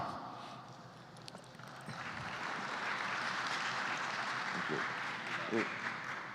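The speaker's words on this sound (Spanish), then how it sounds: "un aplauso para Luis Julião Braga" Audience applause at an academic lecture event, a soft, distant patter of clapping that swells gradually and holds, with faint voices under it.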